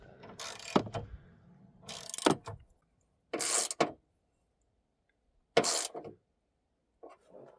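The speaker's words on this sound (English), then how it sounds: "we'll get this all tightened back down. And we're just going to snug these." Battery tie-down bolts on a GMC Terrain or Chevy Equinox are snugged with a ratchet, giving four separate bursts of quick ratcheting clicks separated by silence, close and clear, with no voices.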